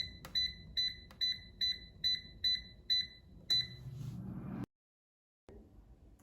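An air fryer signals it has finished cooking with a series of eight evenly spaced electronic beeps, crisp and close, followed by a soft clatter and a brief silence.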